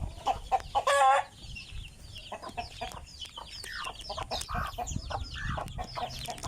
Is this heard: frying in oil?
no